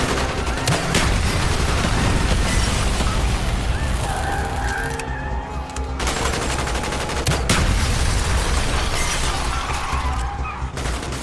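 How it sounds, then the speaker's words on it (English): Dense gunfire and explosions from a street fight in the video game Call of Duty: Black Ops, with overlapping bursts, booms and crashing debris filling the whole stretch at high, constant loudness. "Bowman, Carlos, lay down covering fire"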